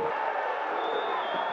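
Football supporters applaud and cheer in the stands at a Série D match in Caruaru, a steady wash of distant crowd noise with a thin whistle-like tone running through it.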